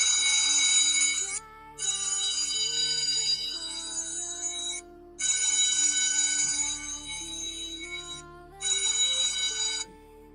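A mobile phone's loud ringtone-style alert, triggered by a smartwatch Find Device function, plays as a repeating melodic tone in several long bursts with brief gaps between them, close and dominant.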